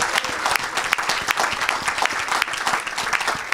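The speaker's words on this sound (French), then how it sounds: "Oh, acclamez très très fort pour Jésus." Congregation in a French-language church service clapping, with some cheering, a dense crackling burst of many hands that stays loud and fairly close throughout, without clear talk.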